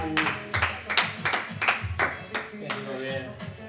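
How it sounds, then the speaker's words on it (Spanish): Group clapping after a live functional training workout session, a burst of uneven claps with music and a voice over it. "Un gran aplauso para ustedes."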